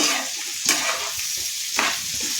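Onions, green chillies, garlic, mustard seeds and fenugreek sizzle steadily in a pan for a fish curry, with two or three louder scraping stirs cutting through the continuous frying hiss. No talking.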